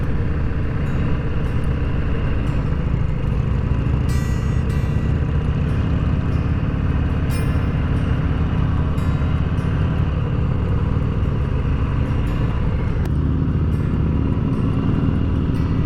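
An Indian motorcycle on a road ride through the mountains of Robbinsville, North Carolina produces a continuous loud engine drone mixed with wind and road roar. There are no distinct passes or breaks.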